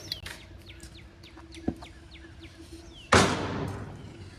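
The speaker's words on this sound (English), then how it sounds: "I'm just enjoying this beautiful day, listening to the birds chirp." Short bird chirps repeat through the quiet outdoor air, with a brief knock partway through and a louder rushing noise near the end.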